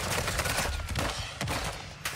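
Gunfire in Call of Duty Warzone 2.0 DMZ mode crackles in dense, rapid bursts with sharp distinct shots, loud and continuous throughout.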